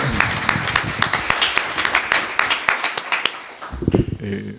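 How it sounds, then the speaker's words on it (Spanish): Crowd claps steadily in a dense, sustained round of applause at a book presentation, ending with a few fading claps. "vamos a ser un poquito más cálido con un aplauso a Eduardo Gutiérrez, por favor"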